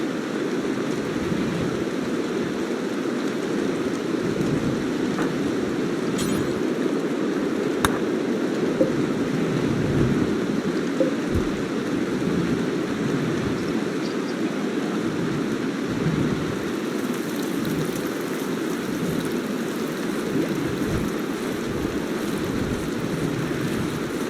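Steady rain falls in the video game Rimworld, a continuous dense hiss and patter with a few faint distant rumbles, unbroken and fairly loud throughout.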